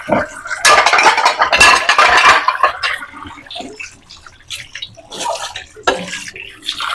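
Running water splashes while dishes clink and rattle nearby, in uneven bursts with brief quieter pauses.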